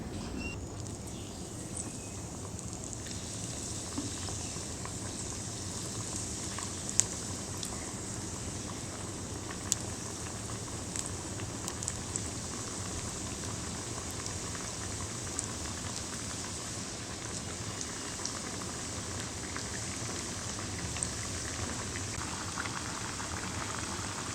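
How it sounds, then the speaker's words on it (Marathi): Cabbage vadi (kobichi vadi) slices deep frying in hot oil, giving a steady dense bubbling sizzle with occasional small pops, close and continuous with no talking. "ह्या ज्या वड्या आहेत त्या एक एक करून आपण तेलामध्ये सोडणार आहोत आणि तळून घ्यायच्यात"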